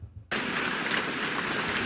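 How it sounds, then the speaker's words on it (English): Rain ambience from the background sound library of the GameCreator game engine: a dense, even wash of falling rain that starts abruptly after a brief quiet moment and holds steady and fairly loud. "4 different rains."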